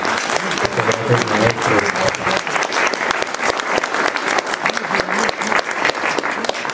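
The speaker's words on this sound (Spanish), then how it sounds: "les pido también un fuerte voto de aplauso." Loud, dense applause from an audience at a talk on Tunupa and the Wiracocha route, sustained clapping throughout with no speech over it.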